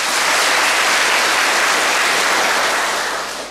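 Audience at a summer retreat applauds in a dense, loud, steady wash of clapping that holds for several seconds before easing off at the end.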